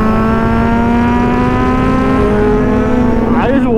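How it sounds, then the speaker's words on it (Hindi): Kawasaki Z900 and BMW S1000RR motorcycles rev loudly and close, a sustained high engine tone that shifts pitch near the end, with no speech over it. "आप लोग सिर्फ और सिर्फ बाइक्स की आवाज़ एंजॉय कर रहे हो"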